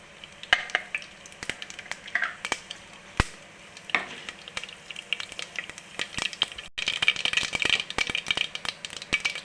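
Mustard seeds crackle and splutter in hot oil in a home kitchen pan, with irregular sharp pops scattered over a steady low sizzle that grows busier toward the end.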